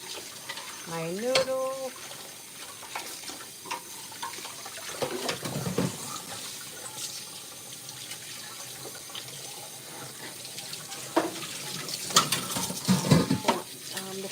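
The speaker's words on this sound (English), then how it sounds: "I'm going to strain the water out." Cooked noodles are drained in a kitchen sink, water pouring and splashing at moderate volume through most of the stretch, with a few clinks of cookware and someone speaking briefly over it.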